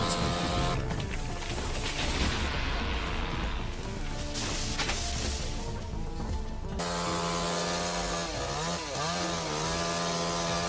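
A chainsaw cuts into a giant red cedar tree, roaring loud and continuous at close range, its engine pitch rising and wavering as the cut goes on, with no voices.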